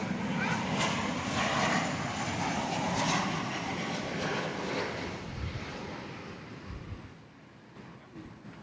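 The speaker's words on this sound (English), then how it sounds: "It is a 737-800, American Airlines Flight 452." American Airlines Boeing 737-800 jet arriving at Dallas Fort Worth airport, a broad steady engine roar that holds loud for several seconds and then slowly fades as it passes.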